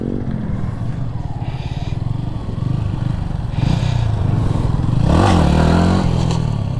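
A KTM motorcycle engine revs during a wheelie attempt, loud and close, with steady idle throbbing that rises into sharper throttle blips and climbing revs toward the end.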